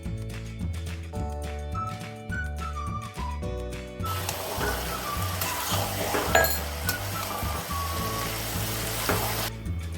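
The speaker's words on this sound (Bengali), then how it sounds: "একটু সাতলানোর পর থেতো করা রসুন দিয়ে দেব।" Garlic, crushed, sizzles as it is sautéed for a desi chicken curry, a steady hiss that swells louder partway through, with music playing over it.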